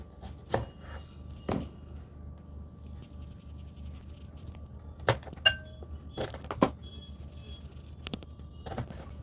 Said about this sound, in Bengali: দুটো সাইড আমি কেটে নিচ্ছি